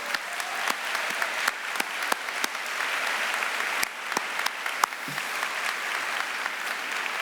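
Sustained applause from an audience at a live philanthropy day event, a steady wash of many hands clapping with a few sharper nearby claps standing out, continuing evenly throughout.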